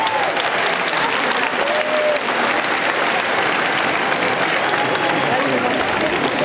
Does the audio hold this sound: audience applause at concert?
yes